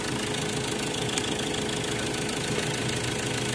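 Ford Everest Titanium engine running after a no-start repair: a steady, dense idle rumble with a faint knocking texture, continuous and even throughout, with no voices.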